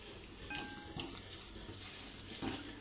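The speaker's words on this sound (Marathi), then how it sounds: "असं मिक्स करून घ्यायचं आहे।" A spoon scrapes and clinks in a pan as chilli powder, salt and turmeric are mixed into roasted curry leaves, with soft stirring rasps and a few metallic taps.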